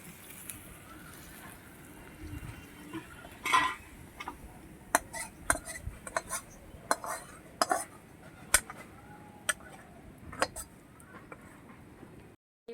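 A cooking pan of fish is taken off the stove in a home kitchen, with quiet clinks and clatters of metal cookware and utensils scattered over a soft background.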